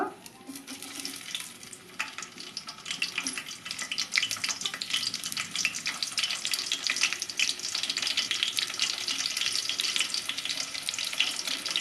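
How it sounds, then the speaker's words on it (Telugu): Onion pieces frying in well-heated oil, a half-kilo batch for a ridge gourd curry: a dense, steady hiss of crackling oil that swells after the first few seconds and holds fairly loud to the end, with no one talking. "ఆయిల్ అయితే హీట్ అయిందండి బాగా కొద్దిగా ఉల్లిగడ్డ ముక్కలు అయితే వేస్తున్నాను"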